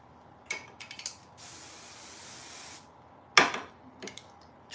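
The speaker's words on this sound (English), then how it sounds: "And then I'm spraying a little bit of Goddess Polish on my hair too" A pump spray of Goddess Polish hair shine mist is applied to styled hair, giving a long steady hiss of about two seconds, preceded by a few short spritzes and followed by a sharp closer burst and one brief puff.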